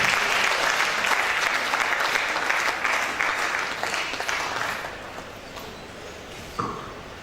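An academic audience at the University of Benin Annual Research Day applauds Professor Olga after her talk. Dense, steady clapping fills the room for several seconds, then tapers off, ending in a single sharp ping.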